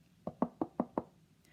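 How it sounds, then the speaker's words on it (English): Five firm knocks on a wooden door, evenly spaced and close, with nothing else heard apart from a faint room hiss. "Little Red knocked on the door."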